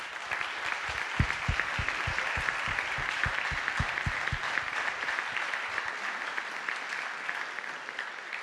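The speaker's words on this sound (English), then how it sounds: "Please, your applause for Omar and Mock" Steady audience applause fills a music school awards day ceremony, a dense even clapping that holds at a moderate level throughout with a few louder individual claps near the start and no speech over it.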